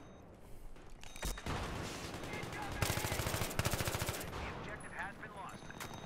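An AK rifle fires in rapid automatic bursts during a Battlefield 3 multiplayer match, loud and close, with further gunfire and a voice talking underneath.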